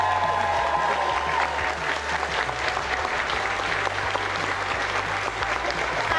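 Wedding guests in a barn at Barra Castle cheer and applaud without a break, with dense, steady clapping mixed with whoops and crowd noise.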